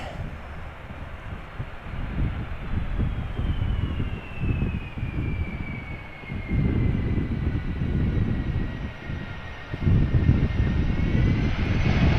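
A loud, steady airplane engine roar fills the scene, with a high whine slowly sliding downward as a 20-year-old aircraft passes low and close, approaching to land in a crosswind at Amsterdam Schiphol Airport.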